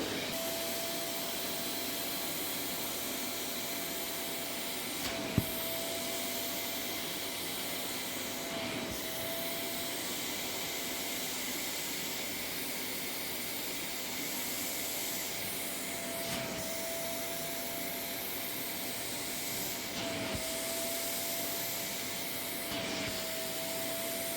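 A Kiwi sofa and carpet washing machine draws water and dirt from fabric, making a steady, whooshing vacuum hiss that runs without a break and is punctuated by a few faint clicks and bumps, with no talking.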